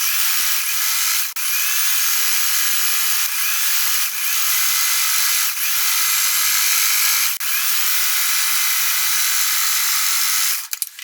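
A sewing machine stitches fabric strips with white thread, a steady high-pitched whirring drone running continuously for about eleven seconds with a few small clicks, then stopping at the end.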